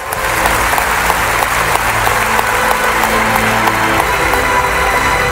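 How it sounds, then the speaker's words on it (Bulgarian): An audience at a Bulgarian political rally applauds a speech with loud, sustained, even clapping from a large crowd. "Не само от вашите аплодисменти"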